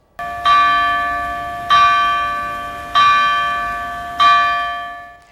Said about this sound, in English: Floyd's funeral was being held in Houston, church bells rang out in Los Angeles.